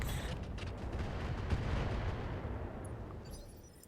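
Heavy weapons fire at a tank in RogueTech, a deep rumbling barrage of booming impacts and blasts that swells steadily and then fades out, with no talk over it.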